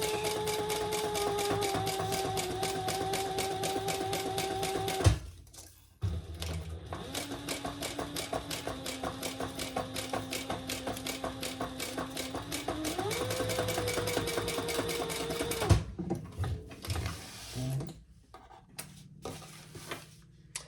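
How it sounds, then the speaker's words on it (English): A sewing machine runs a steady one-eighth-inch topstitch along a crossbody bag. It whirs for about five seconds, pauses briefly, then sews a longer run. It stops with a few soft handling knocks at the end. "Let's top stitch. Eighth of an inch."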